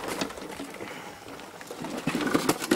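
Young racing pigeons coo nearby in a loft, giving soft, low, repeated calls among light shuffling and flutters.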